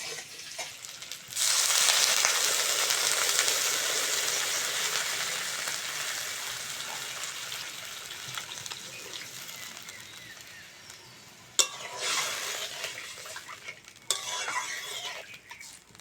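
Potatoes and bitter gourd frying in a pan for a fish curry, a bright steady sizzle that starts abruptly and slowly eases, with a clink of a utensil stirring and metal scrapes near the end.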